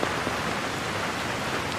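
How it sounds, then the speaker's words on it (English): Steady rain falls in a quiet village setting, a soft, even hiss of drops on surfaces with no voices or other sounds, faint and continuous. "No voices, no footsteps, only the sound of rain."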